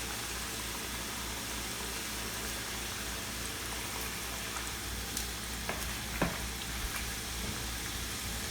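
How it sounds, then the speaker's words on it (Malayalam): Rice murukku frying in hot oil, five pieces in the pan, giving a steady, fairly faint hiss and sizzle with a few small pops and no talking. "എണ്ണയിലേക്ക് ഇടുമ്പോൾ സൂക്ഷിക്കണം, എണ്ണ തെറിച്ച് വീഴും"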